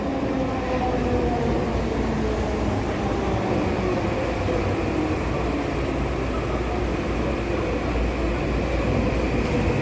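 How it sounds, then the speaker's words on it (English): A Production Way University bound SkyTrain in British Columbia pulls into the station, its steady electric whine and rumbling wheels filling the air loud and continuous, with rising tones as it approaches and no voices. "Production Way University bound SkyTrain"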